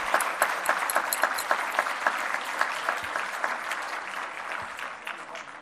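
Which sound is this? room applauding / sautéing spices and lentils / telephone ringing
room applauding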